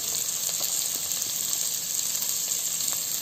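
Sliced onions and green chili sizzle and fry steadily in a hot pan, a continuous bright crackle with faint scraping as the pan is tossed, close and without talk.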